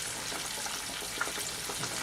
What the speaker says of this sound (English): raise up a little bit when you drop the pork chops in there.